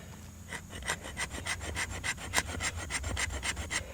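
A knife shaves curls off a quartered stick of fatwood at a hammock camp, making steady rhythmic rasping strokes about four per second, close and moderately quiet, with no talking.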